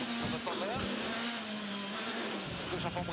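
A rally car starting a stage of the 2011 Monte Carlo Rally on a slippery road, its engine droning and rising steadily in tone from inside the car while a co-driver talks over it.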